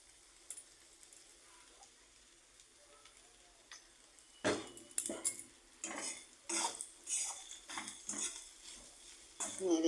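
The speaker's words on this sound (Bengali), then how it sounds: "নেড়ে চেড়ে নামিয়ে নেব।" A metal utensil stirs and scrapes kakrol curry in a pan. Faint at first, then a run of irregular clinks and scrapes comes close, with quiet background noise.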